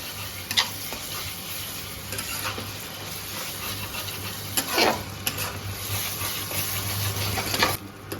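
Chicken pieces coated in ginger garlic paste are stirred in a hot pan for a chicken curry, giving a steady close sizzle broken by scraping strokes of the spoon, with no talking.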